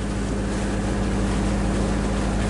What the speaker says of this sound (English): So we've just turned the motor on to come in.